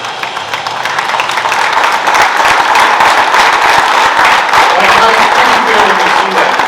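A sellout baseball crowd applauds a long-serving Yankees pitcher with loud, dense, sustained clapping and cheering that builds early and holds at full strength for several seconds.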